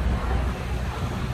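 Strong, steady wind buffets the microphone on a crowded beach at Arraial do Cabo at year's end, a loud low rumble with no pauses and no other clear sounds on top.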